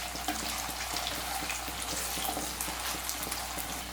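Boneless chicken breast pieces frying in a hot pan, an even close sizzle with light spattering crackles throughout, no voices.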